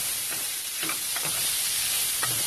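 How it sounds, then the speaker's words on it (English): Andouille sausages fry in a skillet with a steady, close sizzle throughout, while a few soft scrapes of stirring or turning come through on top. "So we've added the andouilles into the skillet."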